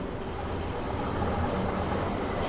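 Bakerloo line train in Train Sim World 2 running and braking, a steady loud rumble of rolling stock with a faint metallic squeal high above it, continuous and close throughout.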